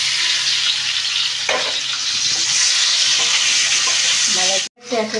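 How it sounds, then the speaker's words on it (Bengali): Hot oil in a wok sizzles loudly and continuously as duck eggs fry, with stirring scrapes and a short dropout before the crackle resumes. "কড়াইতে তেল দিয়ে দিয়েছি, তেলটা গরম হয়ে গেছে। এবার ডিমটাকে ভেজে নেব।"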